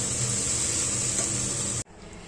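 Taro curry sizzles loudly in a pan as it is fried and stirred, a steady close crackling hiss that cuts off abruptly near the end.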